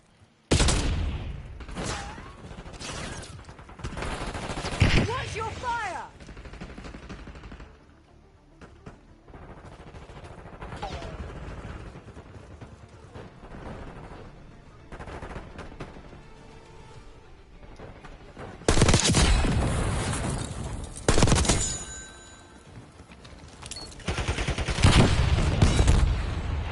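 Rapid gunfire bursts from a PS5 video game crackle through the stretch, loud volleys near the start and again toward the end with quieter, scattered shots between.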